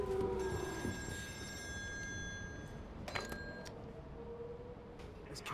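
A telephone rings with a repeated metallic bell tone in the game Still Wakes the Deep. The ringing is loudest in the first few seconds, then a few more faint rings come through over a hollow ambient background.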